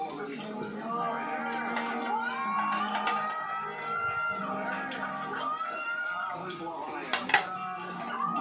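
Dishes, pots and pans being washed by hand at home, with clinks and clatters of cookware and cutlery under steady conversation between people nearby.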